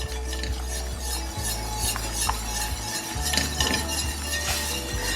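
A whisk scraping and clinking steadily around a pan as roux is stirred into chicken stock over medium heat, close and continuous with a faint sizzle underneath and no talking.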